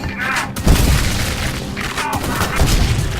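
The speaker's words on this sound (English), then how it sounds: "This is the bowling bomb, as the game calls it." In the shooter game Ion Maiden, the bowling bomb weapon fires with booming thuds and bursts, loud and dense amid continuous game noise.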